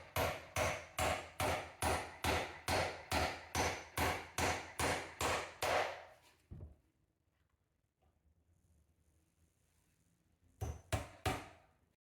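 A hammer drives nails by hand into a wooden beam while a load-bearing wall is being removed. About a dozen quick, evenly spaced blows land close and loud, then a pause, then a few more strikes.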